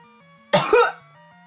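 A single close, fairly loud cough in two quick bursts, rising over faint steady game music and then dying away, with no one speaking.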